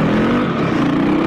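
Voge 300 motorcycle engine pulling steadily on an off-road single track in second gear, a loud, continuous close-up drone with a slowly rising pitch and no pauses.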